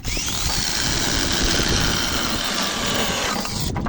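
A KAKYOIN 12 inch cordless electric chainsaw cuts wood with a loud, steady high motor whine and a gritty rasp of chain through timber, running close and continuously until it cuts off at the end.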